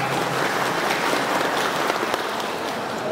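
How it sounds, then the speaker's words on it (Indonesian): Audience at a TPS coordinator consolidation meeting in Cangkuang district breaks into steady, dense applause, a broad continuous clatter of many hands filling the room at even loudness throughout. "Bapak Widi dan Bapak Aan, tepuk tangan buat beliau berdua."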